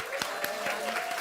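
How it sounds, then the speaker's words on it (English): Audience applause at a chefs' gathering with the James Beard Foundation, heard as a brief, fairly soft burst of clapping with a voice speaking over it. "Round of applause."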